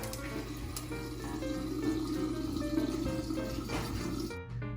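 Filtered water pours steadily into jars, a continuous splashing fill that holds close and even for several seconds before stopping abruptly.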